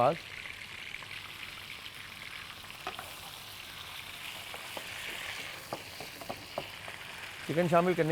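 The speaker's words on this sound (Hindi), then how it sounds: "मेरे पास ऑयल काफ़ी गर्म है, तो यहाँ पर हमने चिकन शामिल कर दिया" Chicken sizzling in hot oil for chicken nihari, a steady bright crackle with occasional pops and stirring, while someone talks over it.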